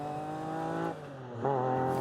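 A Metro 6R4 Group B rally car slides around a turn at near parking speed, its engine droning steadily with a dip and then a rising surge, tires scrabbling underneath.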